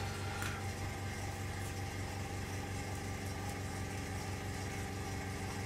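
An air compressor for an airbrush runs steadily on a scale-model workbench, a constant low motor hum with a faint hiss that holds level throughout, with no talk.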